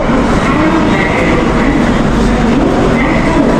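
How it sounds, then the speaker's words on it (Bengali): Steady, loud rumble of a passenger train at Howrah Junction station, a continuous rolling clatter, close by and without pauses, no voices. "এই হচ্ছে আমাদের ট্রেন।"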